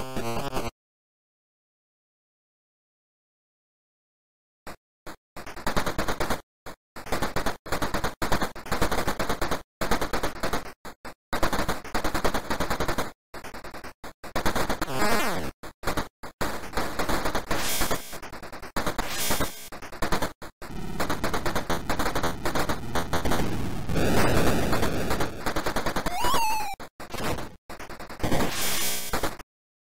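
Gunfire and explosions from the Atari 7800 light-gun game Alien Brigade, running in emulation on a Raspberry Pi 3, come as loud, harsh, crackly bursts of retro game sound after a few seconds of silence, with no talking.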